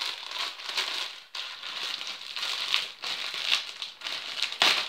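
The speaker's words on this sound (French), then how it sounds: "Donc on va ouvrir le paquet tout de suite." A plastic packet of marshmallow candies being torn open, with continuous close crinkling and crackling of the wrapper in several bursts and brief pauses, and no talk.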